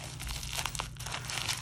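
A small bubble envelope crinkles and rustles in close handling, a string of quick plastic crackles with a low hum behind.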